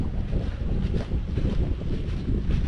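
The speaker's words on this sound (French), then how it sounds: "Avec le vent qu'il y a aujourd'hui" Strong wind blows steadily outdoors near burning fields, a dense low rumble of gusts buffeting the microphone throughout with no pauses.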